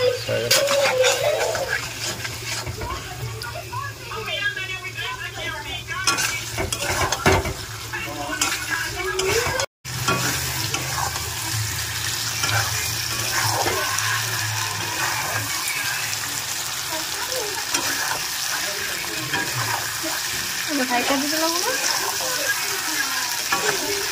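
Meat curry fries in a pan over a gas stove, a steady sizzle with repeated scraping stirs throughout, close and loud, while a person talks over it.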